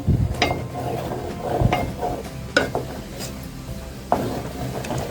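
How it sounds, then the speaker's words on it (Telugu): A spoon stirring boiling ragi malt in a pot, with soft scraping strokes and intermittent clicks against the pot at a slow, steady pace over a low bubbling simmer. "దాన్ని ఇట్లా స్లోగా ఇలా కలుపుకోవాలి గట్లే కట్టకుండా ఒకే డైరెక్షన్లో కలుపుకోవాలి"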